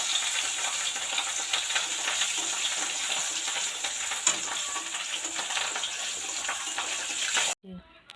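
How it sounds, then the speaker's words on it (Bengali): A piece of fish belly frying in a pan in a home kitchen, giving a close, steady crackling sizzle with occasional stirring clatter that runs continuously and then cuts off abruptly near the end, followed by a brief quiet clank. "আর একটা মাছ ভেজে দিচ্ছি"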